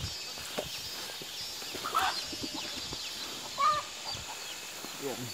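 A chicken clucks briefly a couple of times at a moderate distance outdoors, over a rustling ambient background with faint voices.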